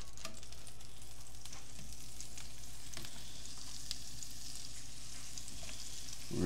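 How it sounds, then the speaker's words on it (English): Cheese slices fry in heated butter in a pan, giving a steady, close sizzle that crackles evenly throughout with a few soft pops and no talking. "We're just gonna let them fry for a few minutes on each side."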